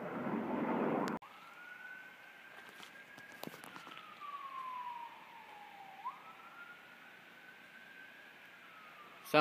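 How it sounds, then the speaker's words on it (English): An emergency vehicle siren wails in the distance, rising and falling in long sweeping tones after a short burst of louder noise, heard alone without voices. "I can hear sirens. Probably an accident on the highway."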